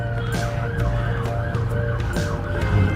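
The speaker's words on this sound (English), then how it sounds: "Somebody's got a new siren." Emergency vehicle siren wailing steadily with a repeating rising and falling tone over constant low road rumble, loud and continuous throughout.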